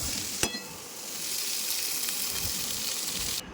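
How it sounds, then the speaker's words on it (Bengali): Pointed gourd frying in oil with turmeric and salt, a dense close hiss of sizzling with one sharp clack of a utensil near the start, steady for a few seconds. "একটু হলুদ আর একটু লবণ দিয়ে সেরা দিয়ে একটু ভালো করে ফ্রাই করালাম, একটু লাল লাল করে।"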